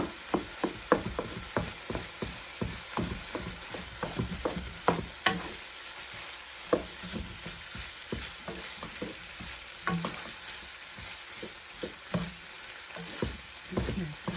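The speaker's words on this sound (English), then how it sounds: "Finish cooking this meat." Ground meat for lasagna frying and sizzling in a pan, with a steady crackle broken by repeated scraping and stirring strokes from a utensil, close and fairly loud, no talking.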